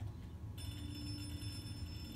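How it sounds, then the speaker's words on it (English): A telephone rings inside the Hello Neighbor video game, a steady electronic bell tone that persists over a low background hum, moderately quiet and continuous. "That's what it is! It's the phone."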